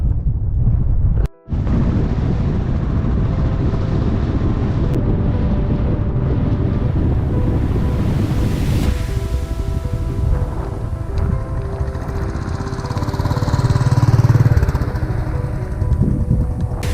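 Strong wind in the snowy Cairngorms roaring across the microphone, a loud, continuous rumbling buffet that swells and eases, with one brief dropout early on.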